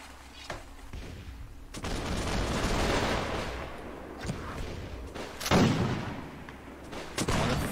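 Ragged musket volleys and scattered gunfire crackle across a battlefield in the video game Warsword Conquest, with repeated sharp bursts and heavier booming shots layered over a sustained din of combat.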